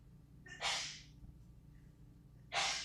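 Two sharp, breathy bursts a couple of seconds apart, like sneezes or snorts, close and fairly loud against a quiet background.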